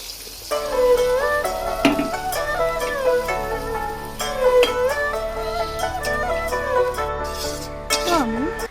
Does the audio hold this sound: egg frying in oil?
yes